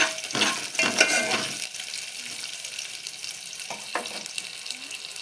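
Curry leaves stirred into tomato rasam in a pan, a clattering scrape and sizzle with a couple of brief spoon knocks later on, close and moderately loud with no talk.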